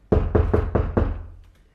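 Five firm knocks strike a wooden door in an old, dusty house, evenly spaced and close, then fade into quiet.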